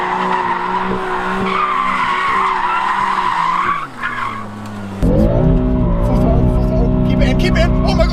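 A BMW M3 drifts with loud, sustained tire squeal and a revving engine, close and intense, the screech shifting pitch midway as the car swings through the slide while an excited voice exclaims over it.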